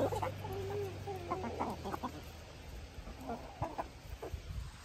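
Chickens on a backyard flock cluck nearby with a rooster among them, several short, bubbly calls coming in uneven bursts over faint outdoor background.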